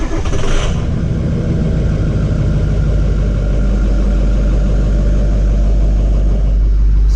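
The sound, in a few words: Ford F250 Super Duty 6.0 Powerstroke diesel engine running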